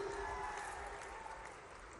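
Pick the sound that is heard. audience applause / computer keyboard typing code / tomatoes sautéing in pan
audience applause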